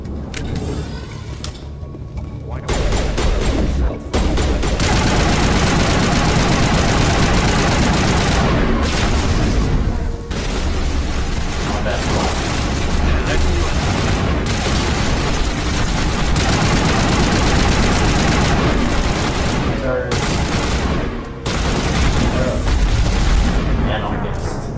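Sustained video game gunfire and explosions roll on for over twenty seconds, dense bursts of shots and booming impacts layered with loud action noise, while players talk over the fighting.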